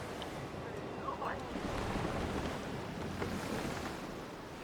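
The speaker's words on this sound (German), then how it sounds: "In die Wanden, Jungs! Wir segeln!" A sailing ship moves across open sea in the video game Assassin's Creed Black Flag, with faint, steady wind and washing waves and no clear speech.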